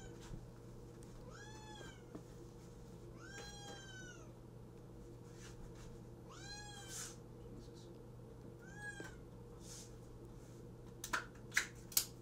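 A house cat meows insistently before feeding time, four or five drawn-out, rising-and-falling meows spaced a few seconds apart over a steady low hum, followed by a few sharp clicks near the end.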